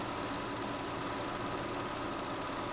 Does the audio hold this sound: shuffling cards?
no